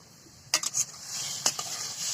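Washed freshwater fish dropped into spiced oil set off a few sharp sizzling bursts and light clinks, then settle into a steady hiss close by, with no talking.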